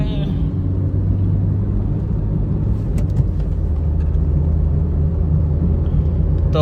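Wagon R CNG car accelerating in a drag race, a loud, steady engine drone and road rumble heard from inside, with a voice speaking over the engine noise.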